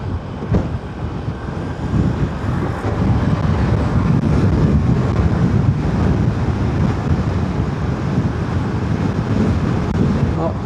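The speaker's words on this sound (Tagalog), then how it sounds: "Ang lakas ng hangin, no?" Strong wind roars steadily across the microphone while riding an e-trike in Marikina, a loud continuous rushing buffet with low rumble throughout.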